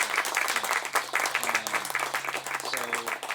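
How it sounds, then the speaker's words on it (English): Audience applause for Ms. Medina at a suicide awareness 5K run and health fair press conference: steady, moderately loud clapping throughout, with voices murmuring underneath. "Can we give her a round of applause?"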